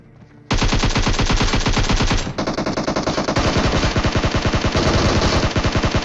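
Loud, sustained automatic gunfire in the PUBG Mobile battle royale game erupts after a brief quiet start, a rapid unbroken stream of shots that runs to the end.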